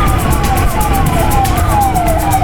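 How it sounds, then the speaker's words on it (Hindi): An ambulance siren wails steadily in city traffic in Kolkata, loud and close, its rising and falling tone running over a low rumble of engines and road noise. "शायद मेरे पीछे एम्बुलेंस है, साइड में एम्बुलेंस"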